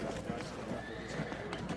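Horses neigh and hooves clip-clop beneath a speaking voice in the Field of Glory 2 video game, a dense, quiet bed of battlefield game sounds.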